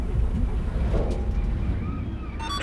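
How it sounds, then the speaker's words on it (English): A straddle carrier's engine in the shipyard video game Docked rumbles loud and steady, a deep continuous drone with wind-like hiss that holds throughout without a break. "All right, the engine did start."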